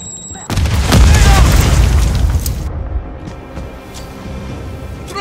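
A Semtex grenade blows up in Call of Duty: Modern Warfare III, one loud, close blast that strikes suddenly and then rumbles and fades over several seconds beneath game noise.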